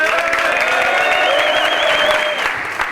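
An audience gives loud, sustained applause to honour a former French football federation vice-president, a dense wash of clapping that holds strong and eases slightly toward the end.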